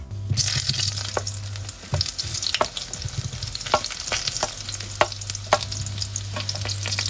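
Potatoes frying in a hot pan with hing and spices while being stirred, a steady close sizzle broken by sharp scraping clicks of the spoon, no voices.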